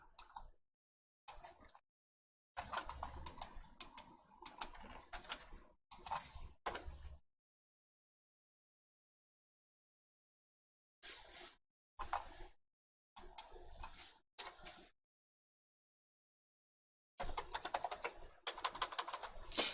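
A keyboard types a search into a browser search box in several quick, close clattering bursts, each separated by stretches of silence.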